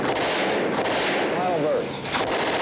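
Gunshots from a firearm ring out in short groups of two or three, loud and close, over a continuous broadband crackle with a faint voice-like trace in the middle.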